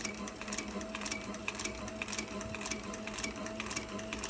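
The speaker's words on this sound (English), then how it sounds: "My guide right here is the edge of the cylinder machine, the Cobra Class 26." A Cobra Class 26 cylinder-arm sewing machine stitches piping with a rapid, even mechanical chatter, running continuously and close by with no talking.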